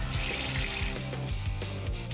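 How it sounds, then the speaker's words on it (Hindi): Water pours and splashes continuously into a container, close and fairly loud, with a low rhythmic gurgle throughout and no voices. "चलो थोड़ा पानी मिलाते हैं।"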